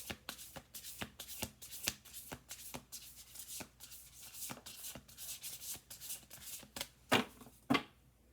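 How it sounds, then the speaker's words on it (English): Oracle cards are shuffled close by in a quick, rhythmic series of soft riffling and rubbing strokes, ending with a couple of louder slaps. "We'll do one more shuffle."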